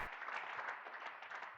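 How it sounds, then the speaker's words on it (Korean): A church congregation at a deliverance service applauds in praise, a dense, continuous wash of many hands clapping at once, loud and sustained throughout the short moment with no voices standing out. "우리의 주님이신 예수 그리스도께 큰 박수를 드립시다."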